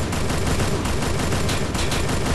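Rapid gunfire in the Free Fire battle-royale game rattles in a dense, loud, continuous burst of overlapping shots with no pause and no voices.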